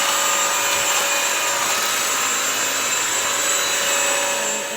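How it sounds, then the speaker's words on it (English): A Bissell Crosswave multi-surface cleaner runs dry as a plain vacuum, sucking cereal off a floor. Its steady, loud whirring drone carries on unbroken and close, with no talk. "I'm going to use it as a regular vacuum without the water"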